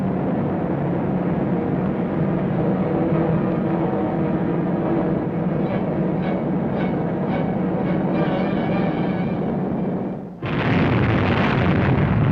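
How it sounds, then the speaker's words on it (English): Atom bomb explosion over Hiroshima: a heavy, steady rumbling drone holds for about ten seconds, then a sudden loud, broad blast bursts in and keeps roaring to the end. "He was about to drop the atom bomb."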